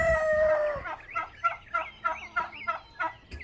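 A rooster crows loudly up close, followed by a rapid series of repeated clucking calls, several fowl sounding together.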